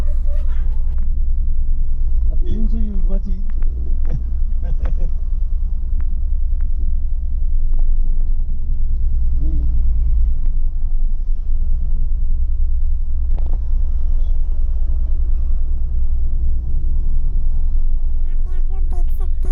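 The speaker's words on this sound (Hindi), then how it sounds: "पूरा गाड़ियों का मेला लगा हुआ है।" Heavy traffic rumble from many vehicles crowding the mountain road to Mana village near Badrinath, a steady low drone throughout with engines idling and passing nearby, and faint voices in the background.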